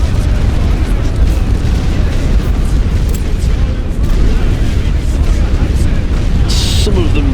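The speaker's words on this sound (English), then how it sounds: "I'm just going to artillery this entire section" Artillery barrage shelling a trench section in The Great War: Western Front strategy game, a constant roar of overlapping explosions and low rumbling booms, loud and unbroken, with a brief sharper burst near the end.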